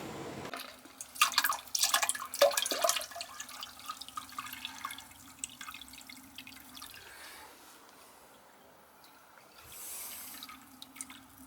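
Water drains and drips from the condensate pan of a Ruud air conditioning unit at a business where the unit is not cooling and the drain is backing up. Close, irregular splashy bursts come early and again later, over a low, steady hum.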